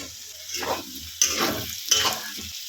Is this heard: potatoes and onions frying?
yes